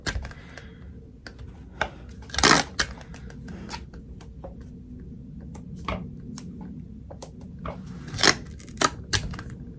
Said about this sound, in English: So I'm just going to go ahead and tape there.